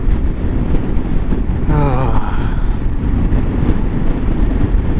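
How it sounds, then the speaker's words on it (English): Steady, loud wind roars and buffets the microphone while riding a 2022 Kawasaki KLR650 motorcycle in the Utah desert, with the engine drone buried beneath. A brief voice-like wavering tone breaks through near the two-second mark. "the wind's out here, she still gets tossed around a little bit"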